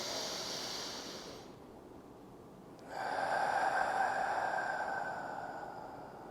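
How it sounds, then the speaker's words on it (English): A slow deep breath, a long airy exhale that fades into a short pause, then a fuller, louder inhale of air through the nose, close and alone without talk. "let's take a deep breath together"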